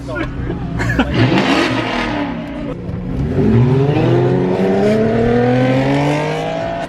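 A BMW E36 M3 accelerating hard in a street race, its engine note climbing steadily through the gears, close and loud, with voices talking over it.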